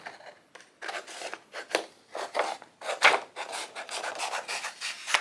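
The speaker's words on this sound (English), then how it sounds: "Let me cut my white paper so I have a place to clip onto." Scissors snip through white paper in a run of short, crisp rasping cuts, close to the microphone, irregular at first and then quicker and more even.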